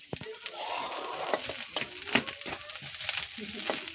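Fish sizzling gently in oil in a pan over low heat, a soft continuous crackle with scattered sharper pops and a few scraping touches, close and fairly quiet.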